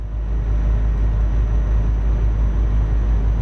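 A heavy truck engine in Euro Truck Simulator 2 drones loudly and steadily, a deep constant rumble with no change in pitch and no talking over it.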